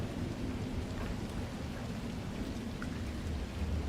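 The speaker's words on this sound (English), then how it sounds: "it is terribly rainy over here" Steady rain with rolling thunder in the video game The Last Caretaker, a dense continuous hiss of downpour with low rumbles underneath, loud and unbroken throughout.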